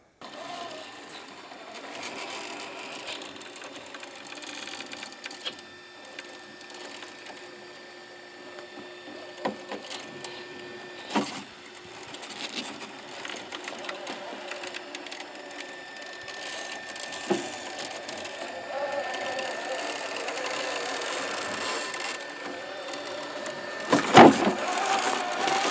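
An upgraded Axial SCX6 RC crawler runs for about twenty-five seconds, its steady electric motor and gear whine droning with faint clicks and a brief louder clatter near the end, no talking.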